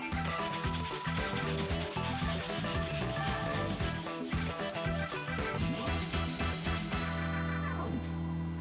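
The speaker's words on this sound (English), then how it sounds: "I found these little pink sanding spheres and just free-handed my trim router like it was a big Dremel tool" A trim router fitted with small pink sanding spheres is run freehand over walnut and ash, giving a steady, loud grinding whine with a humming motor tone that continues without pause and no voices.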